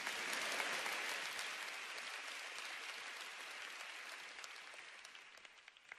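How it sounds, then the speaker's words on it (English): A seminar audience in Singapore bursts into applause, a dense wash of clapping that is loudest at the start and gradually thins and fades over several seconds. "you can applaud that if you want."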